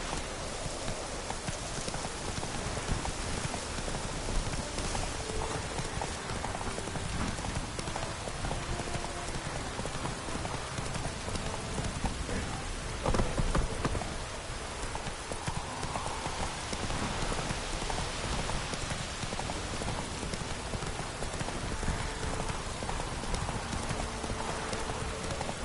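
Horse Roach galloping in The Witcher 3, a steady, rapid clip-clop of hooves under a constant hiss like rain, moderately loud and unbroken throughout.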